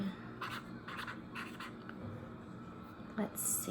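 Pen scratching words onto paper in short bursts of scribbling, close and fairly quiet, with a brief tap or clink near the end and a room hum underneath.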